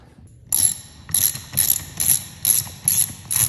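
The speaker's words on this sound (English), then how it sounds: "Next, we're gonna grab our sockets." A socket ratchet clicks in quick, rhythmic bursts, about seven close-up strokes, while tightening the wheel bolts when fitting bush wheels to a BushCat light aircraft.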